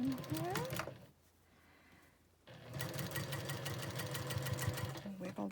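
A sewing machine stitches a quilt block seam in fast rattling bursts, pausing for about a second and a half before resuming its close, rhythmic whirring.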